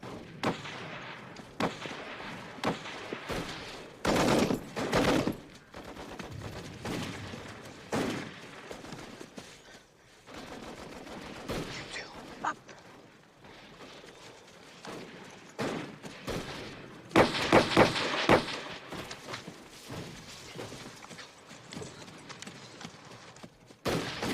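Rapid machine-gun bursts and scattered shots from a war film battle scene, coming in uneven volleys of sharp cracks across a continuous noisy backdrop, with some louder clusters later on.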